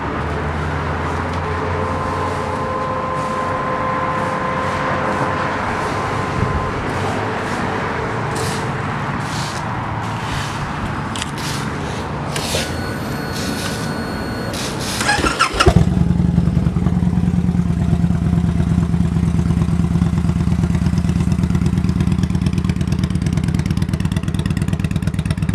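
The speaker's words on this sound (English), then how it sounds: "We'll go ahead and start it up so you can hear it." A 2012 Victory Vegas Zach Ness motorcycle starts up: after a stretch of background clatter and ambient noise, the engine fires at about fifteen seconds and settles into a loud, steady, deep idle close by.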